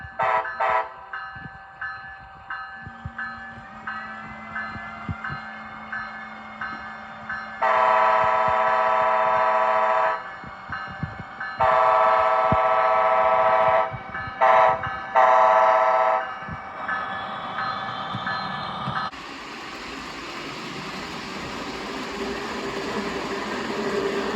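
Long, loud horn blasts sound in several bursts over engine rumble and hiss, then fade into steady rolling noise as a northbound train departs from a station track.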